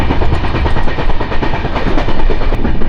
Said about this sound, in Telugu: మనకు ఎదురుగా 12133 అయితే వస్తుంది. సిఎస్ఎంటీ నుంచి మంగళూరు జంక్షన్ వరకు వెళ్ళే ఎక్స్ప్రెస్ ట్రైన్.